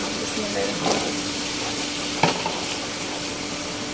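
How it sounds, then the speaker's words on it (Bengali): Vegetable stalks tipped into a hot pan hiss with a steady sizzle, broken by a couple of sharp clatters as they land and are moved about. "এখন ডাটাগুলো ঢেলে দিব"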